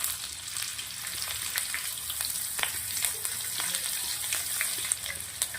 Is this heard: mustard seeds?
yes